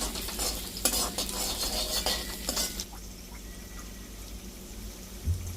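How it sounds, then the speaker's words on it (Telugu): Green chilies and curry leaves frying in oil in a pan, a loud busy sizzle with stirring scrapes that drops abruptly to a quiet simmer after about three seconds, close with no voices. "ఇంకొంచెం ఇట్లా ఫ్రై చేసుకున్న తర్వాత 1-2 మినిట్స్ మంచిగా ఇట్లా వేగినాక పచ్చిమిరపకాయలు కూడా మంచిగా వేగాలి"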